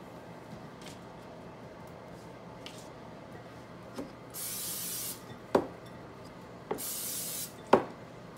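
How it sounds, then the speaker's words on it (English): Two short hissing bursts of cooking spray, quiet, with soft clicks and light knocks between them. "until I get them all coated with the cooking spray"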